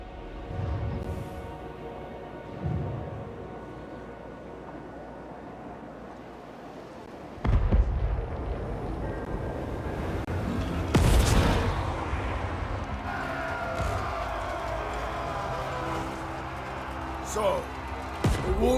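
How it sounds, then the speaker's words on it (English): Cannons firing in a Warhammer 3 game battle, scattered deep booms and a loud blast roughly midway, set against a rumbling battlefield backdrop with voices speaking. "Cannons fire upon the defenders."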